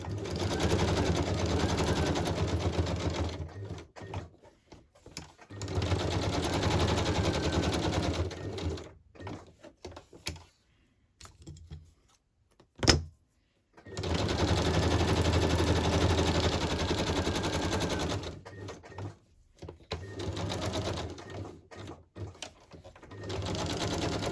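A sewing machine stitching down a craft tag in bursts: fast rattling runs of several seconds broken by pauses and a single sharp click, all close and fairly loud.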